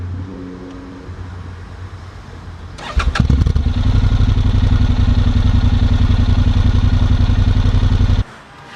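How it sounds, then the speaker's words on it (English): A Honda NC750X motorcycle cranks and fires up about three seconds in, then settles into a loud, close, steady rhythmic idle that cuts off abruptly near the end. "A lovely POV of this beautiful motorcycle right here."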